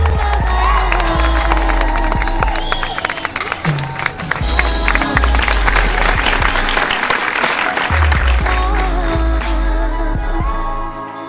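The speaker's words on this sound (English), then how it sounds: "Give them a round of applause right here" Party crowd at a sangeet night applauds and cheers loudly for a couple, steady dense clapping with shouts and whoops, music and a low bass thump underneath throughout.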